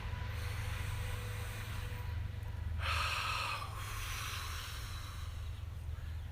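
A slow, deep breath drawn in and let out during a guided relaxation exercise, a soft airy swell lasting about a second against steady low traffic rumble in the background.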